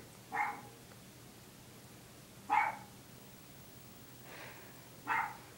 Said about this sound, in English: Can you hear my dog barking?